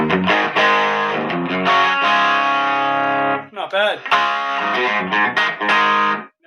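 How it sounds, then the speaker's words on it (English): H&K StompMan amp pedal driving an amp with the gain cranked, giving a gritty distorted guitar tone with strummed chords and a short riff, close and loud; a voice briefly speaks near the end. "Crank the gain. Then we get a little bit of dirt."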